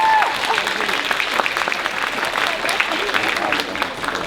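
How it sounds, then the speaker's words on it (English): An audience at a small-town beauty pageant claps in a brisk round of applause, fairly close and steady, with scattered voices mixed into the crowd noise. "give them a round of applause for coming"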